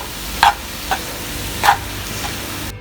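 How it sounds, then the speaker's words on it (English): A spoon stirs mutton biryani in a pot, making a few distinct scraping clinks at uneven intervals over a faint, steady sizzle in the background. "Give it a bit of a stir."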